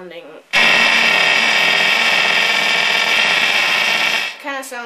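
A Moog Moogerfooger MF-102 ring modulator set to high speed gives a loud, harsh, buzzing metallic drone that starts abruptly, holds steady for about four seconds and then cuts off, with a voice briefly before and after.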